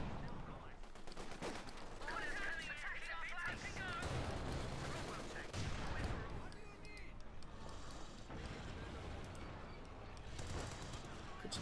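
Gunfire from a Cromwell tank in a Company of Heroes 2 battle, repeated bursts of shots and machine-gun fire amid constant battle noise, with a commentator talking throughout.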